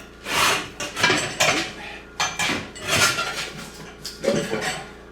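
A Harbor Freight manual tire changer working a lubed tire bead over, producing a run of sharp metallic clanks and scraping knocks in irregular bursts, close and loud, with no voices.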